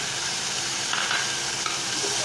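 A close, dense, continuous sizzle comes from bamboo shoot stirred into fried onion and garlic in a pan while cooking fish, with faint stirring scrapes beneath and no talking.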